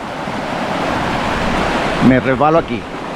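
The Guadalevín River rushes over rocks in the Sierra de las Nieves, making a loud, steady roar of fast-flowing water close by; near the end a voice speaks over it.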